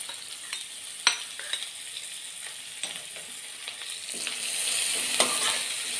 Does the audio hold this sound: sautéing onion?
yes